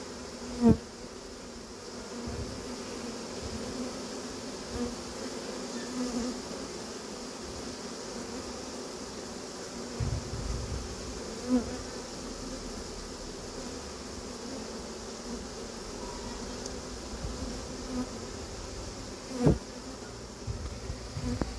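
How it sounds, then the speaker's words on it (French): Steady, continuous buzzing of many honeybees close by as a swarm is settled into a hive, a constant hum with occasional faint knocks and thumps in the background. "c'est les premières abeilles qu'on remet cette saison"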